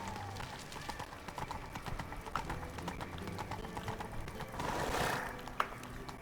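Horse hooves clatter in The Witcher 3 as the horse tries to go down city stairs. The quick, uneven knocks are quiet and fairly close, with a soft swell of background noise near the end.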